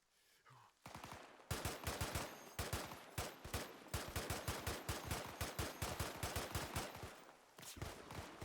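Sustained automatic gunfire in combat, loud rapid bursts packed into a dense rhythmic stream of shots that continues almost without pause, close and harsh.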